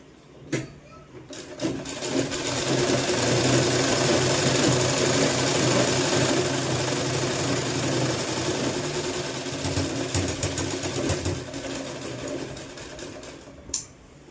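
Sewing machine stitching a seam on a sleeveless kurti, a steady fast mechanical whir running for about ten seconds, starting and stopping with a few clicks at either end.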